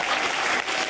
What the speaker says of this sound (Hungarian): Nagy tapsot kérek a kamerásoknak.